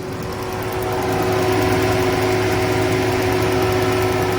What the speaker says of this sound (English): Let's see how the engine actually runs.